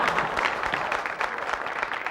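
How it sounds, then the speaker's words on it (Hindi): Hand clapping from a studio audience at a comedy show, a dense, steady patter of many hands held at an even level throughout with no voices over it. "तालियां बजाना बंद करो"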